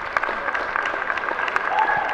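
An indoor audience claps steadily throughout a junior showmanship round at a spaniel show, a dense and even crowd applause that holds at the same level from start to finish.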